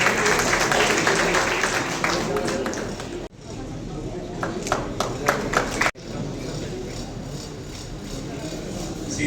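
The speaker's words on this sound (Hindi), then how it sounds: "तालियां बजाते रहे सभी।" A crowd applauds at a public ceremony in Beawar, a steady wash of clapping that runs throughout, briefly cut twice, with a voice announcing names over it.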